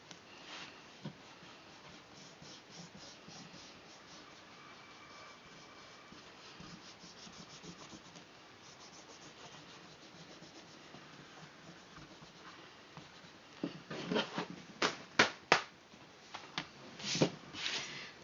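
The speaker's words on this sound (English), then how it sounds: "we're going to simply erase" Quiet, steady rubbing of an eraser against pencil lines on paper continues at close range, turning into quicker, firmer scrubbing strokes toward the end.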